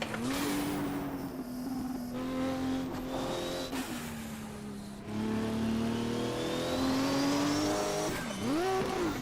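Group 5 race car engine from the GTG5 mod in Automobilista, revving loudly and continuously with rising and falling pitch through gear changes, a sharp dip near the end, no talking.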